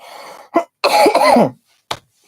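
A person coughs and clears their throat close up, a few rough bursts with short pauses between them.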